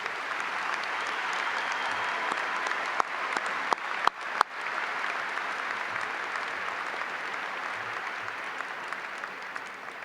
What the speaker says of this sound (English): Audience, please join me in a round of applause to recognize the accomplishments of these students.